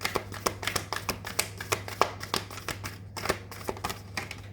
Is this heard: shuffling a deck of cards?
yes